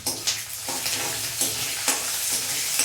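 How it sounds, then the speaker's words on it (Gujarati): Dried red chillies and a small piece of cinnamon sizzle steadily in hot oil, a continuous close frying hiss with a few louder crackles and stirring scrapes, no voices. "3 નંગ સૂકા મરચાં એડ કરીશું અને એકદમ નાનો તજનો ટુકડો એડ કરીશું."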